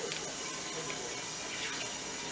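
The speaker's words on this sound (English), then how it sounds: "I'm just gonna pour it on top of the blue" Paint from a cup is poured onto blue paint in a paint pour, heard as a soft, steady liquid trickle at low level for a couple of seconds.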